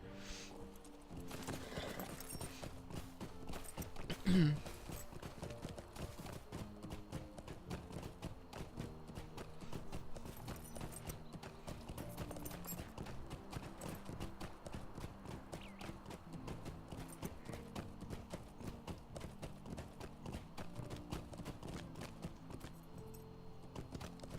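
Horse hooves clip-clop at a steady, even trot in the Lord of the Rings Online video game, a rhythmic run of light taps lasting about 24 seconds over quiet background game audio, with no talking.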